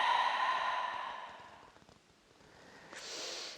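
A long, audible exhale during a yoga sequence moving between shoulder stand and camel pose, a steady close breath that fades out, followed by a softer breath starting near the end.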